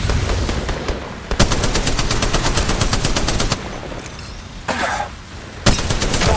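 Sustained automatic gunfire from a mobile battle-royale game, Apex Legends Mobile, rattling in rapid loud bursts with brief pauses between volleys and sharp restarts.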